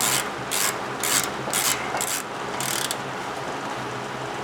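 A ratchet wrench tightening a 19mm castellated nut on the front axle of a Toyota Tacoma SR5 4WD, giving several quick bursts of clicking with short pauses between strokes, close and clear, with no talking.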